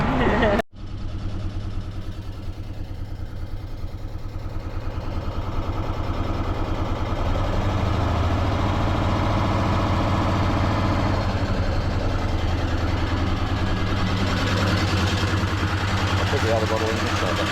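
A GPAK Holden Torana engine idling steadily with a low, continuous rumble after a sharp start, close and loud throughout, with talk over it.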